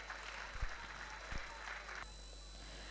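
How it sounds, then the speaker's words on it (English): Applause from an audience at a school function in Bangalore, a steady, moderate patter of clapping with a couple of louder thumps, fading out toward the end. "A big round of applause"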